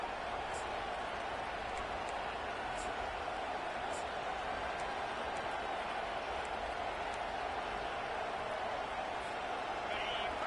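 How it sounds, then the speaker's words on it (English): Stadium crowd noise in the NCAA 25 college football video game, LSU versus Oklahoma, a constant, even roar of a large crowd running beneath a commentator's voice. "This crowd trying to make life miserable for this offense."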